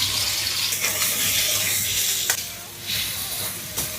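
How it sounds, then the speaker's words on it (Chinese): Shredded pork stir-fries in a hot wok, producing a loud, continuous sizzling hiss broken by a few sharp scraping clatters of the spatula, close and without talk. "炒肉丝，"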